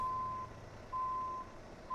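A truck in American Truck Simulator gives off steady reversing beeps, a clean repeating tone at an even pace over a low idling engine, with no talk.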